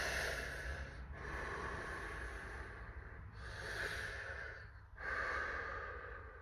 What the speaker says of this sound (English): And just breathing